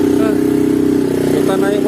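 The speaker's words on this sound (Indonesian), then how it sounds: "Kita naik motor Honda" A Honda motorcycle engine chugging along a badly muddy, broken rural road, a loud steady mid-pitched drone close by with someone talking over it.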